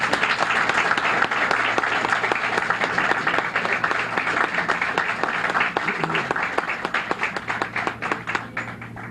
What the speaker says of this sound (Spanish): Un aplauso con el maestro